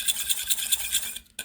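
A fork beats cake batter in a bowl in quick, even scratchy strokes that repeat steadily, then stop briefly before one last tap.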